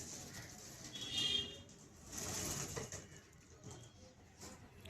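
A Kamanga pigeon coos softly among faint rustling and background noise, the calls low and muffled and a little distant.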